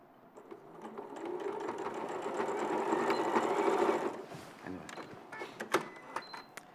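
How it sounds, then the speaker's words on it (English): A sewing machine stitches a seam, its motor whirring faintly and building to a steady run for about four seconds before stopping, followed by scattered small clicks and handling noises. "So I've stitched that bit, making sure I've still got a good seam allowance here at the top"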